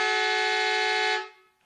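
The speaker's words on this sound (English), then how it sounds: "We've got 10 seconds, so it's Foghorns in the background shortly." End-of-game horn at an Australian football match between Nelson Bay and Newcastle City: one loud, steady, brassy blast held for just over a second, then quickly fading away.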